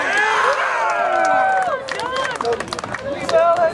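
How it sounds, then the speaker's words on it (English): A crowd at an RWA independent wrestling show cheers and shouts, loud and close, with whoops, clapping and overlapping voices across the whole stretch. "Hey, cheer for the guy!"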